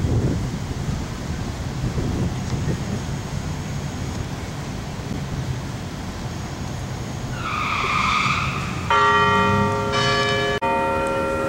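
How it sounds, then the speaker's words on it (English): A church bell rings out several times near the end, bright and resonant, after a stretch of wind and passing traffic noise in a park. "Church bell or something just went off."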